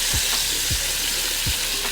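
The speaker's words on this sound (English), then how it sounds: "We just want to kind of toast those veggies a little bit." Onions, garlic and peppers sizzle loudly in a skillet as they toast, with a steady frying hiss and three soft spoon scrapes against the pan bottom at even intervals.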